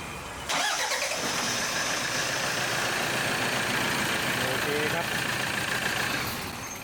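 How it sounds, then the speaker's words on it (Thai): A car engine cranks briefly and catches after a battery health test, then settles into a steady idle hum, close by, with someone speaking over it. "เดี๋ยวลองสตาร์ทดูครับ"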